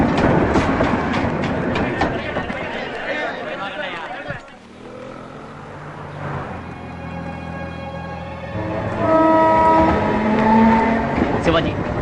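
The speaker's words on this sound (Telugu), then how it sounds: "రైలు వచ్చే టైం అయింది" A train rumbles and clatters loudly as it pulls in, then a sustained horn sounds for several seconds near the end, with people talking over the noise.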